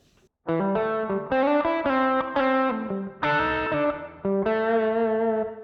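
A distorted electric guitar plays a short, bluesy minor pentatonic single-note lick, phrases separated by brief gaps, close and fairly loud with no talking.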